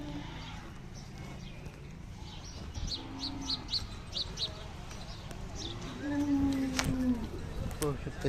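A Khillar dairy cow at the Sangola cattle market gives a low drawn-out moo near the end. Bustling market noise, people talking, and occasional clip-clop of hooves surround it.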